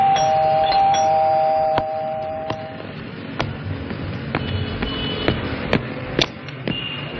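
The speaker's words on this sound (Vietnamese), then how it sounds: "Cứ bấm chuông lần nữa đi" A doorbell chimes at a house door, sounding a clear electronic tone, followed by sharp knocking taps at irregular intervals, close and fairly loud with no talking.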